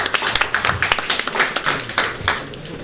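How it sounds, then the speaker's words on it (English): A live audience gives a round of applause to performers at a stage show: a fairly close, uneven patter of individual claps with distinct sharp hand strikes, carrying on steadily throughout. "Give them a round of applause"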